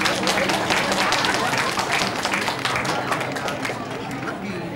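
Dense, continuous applause from a large crowd at a Lunar New Year concert, welcoming a singer and band, fills the whole stretch, steady and loud, tapering slightly toward the end.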